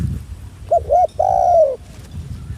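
A spotted dove used as a decoy in training gives a close, clear coo: two short soft notes, then a longer drawn-out call, over quiet background rustle.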